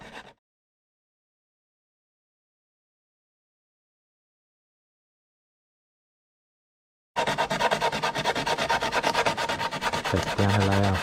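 A kayak paddle is sanded with rough sandpaper in quick back-and-forth rasping strokes, close and steady, after a long stretch of silence.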